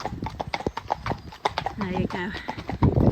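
Unshod hooves of Eddie, a hacking horse, clip-clop in a steady walking rhythm close by, with a brief whinny-like sound, while people talk over the footfalls.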